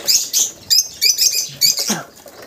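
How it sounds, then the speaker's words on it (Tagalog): African lovebirds in a flight cage aviary, giving repeated bursts of bright high chirps and fluttering wing beats at close range, with no talking. "Ayan yung mga African lovebirds. Ganyan sila sa flight cage"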